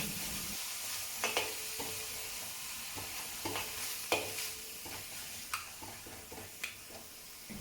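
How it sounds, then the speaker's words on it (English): Bacon frying in a wok over medium heat for a cabbage stir-fry sizzles steadily, broken by sharp clicks and scrapes of stirring at irregular intervals, with no voices. "place the bacon into it and let it fry over medium heat until crispy"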